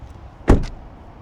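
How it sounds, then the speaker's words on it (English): A 2026 Honda Pilot Elite door swings shut, heard from outside the vehicle: one solid, loud thud with a short latch click just after, set against quiet background noise. "let's listen to the sound of the closing door from the outside"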